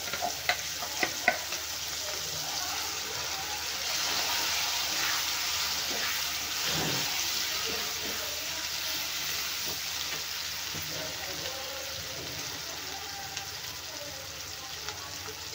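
Pumpkin chutney frying in a pan sends up a constant loud sizzle, broken by faint scrapes and clicks of stirring and no voices.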